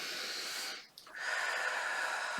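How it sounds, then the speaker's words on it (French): A deep breath drawn in during a guided relaxation exercise, a long airy hiss that dips briefly to near silence and then resumes, close and steady. "Et vous prenez une profonde inspiration"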